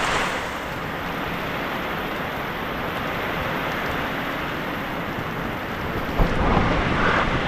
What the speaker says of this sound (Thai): ฝนมาตกเลยพี่น้องเลย